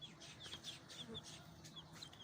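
Ayam Cemani black tongue chicks cheep in a box with quick, high, repeated peeps, close but fairly quiet over a low background hum.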